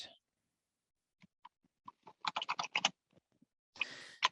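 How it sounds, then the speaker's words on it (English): Keys tap on a computer keyboard in faint, scattered clicks that gather into a short quick run, followed by a brief rustle, heard at a distance in a quiet room with no talk. "who's typing? Mute yourself, please."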